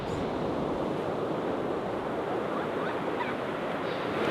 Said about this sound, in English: I can't go over the size of those waves